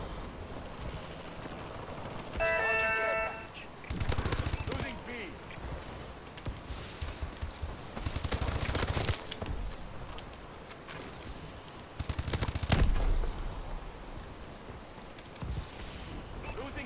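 Bursts of weapon fire from a Call of Duty: Advanced Warfare multiplayer match with a suppressed BAL-27 rifle, several clusters of shots scattered across the stretch, mixed with game effects and a player talking over them.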